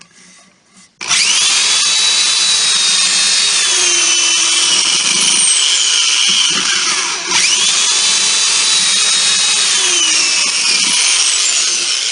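Power drill driving 1 1/4-inch pocket hole screws into 3/4-inch wood boards, a loud steady whine that holds for about eleven seconds with one brief dip, close up and alone.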